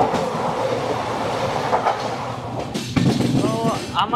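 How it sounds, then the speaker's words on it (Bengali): The Chennai Howrah Mail rolls into Samalkot Junction station with a steady, loud rumble and rhythmic wheel clatter, and a few thin squeals of wheels rise near the end. "আমাদের ট্রেন ঢুকছে"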